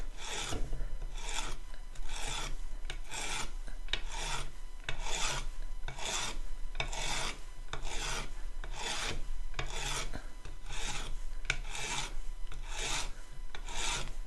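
Rhythmic rasping strokes of sandpaper rubbing a small stop-motion figure, repeated back and forth at an even pace, close and dry.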